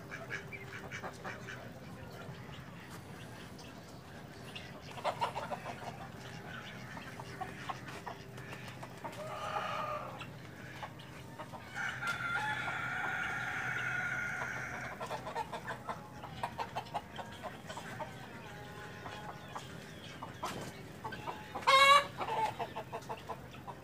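Chickens and roosters on a farm in Karachi cluck and call intermittently at a moderate distance, with scattered clucks, a few louder bursts and one short crow-like call near the end over quiet outdoor ambience.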